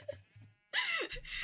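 Minecraft cows mooing in the video game, several loud overlapping low calls bursting in together after a short quiet stretch of faint murmuring.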